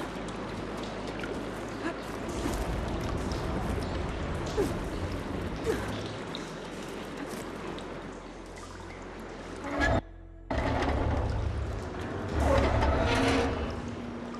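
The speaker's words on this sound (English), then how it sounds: "Aloy, I can hear water in the room again" A steady rush of flowing water follows a valve being opened in Horizon Forbidden West, continuous and fairly loud, briefly cutting out before resuming with a brighter splashing surge.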